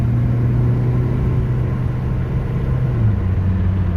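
A 1988 Toyota Corolla FX with a newly fitted carburetor, its engine droning and revving steadily up near 4,000 RPM in a continuous, fairly loud mechanical rumble with no voices.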